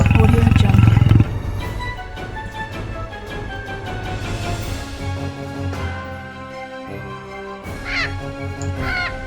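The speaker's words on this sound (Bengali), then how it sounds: "সিংহ," A lion roars loudly and close at the start, then the sound trails into a lower, drawn-out rumbling growl, with a few sharp crow-like caws breaking in near the end.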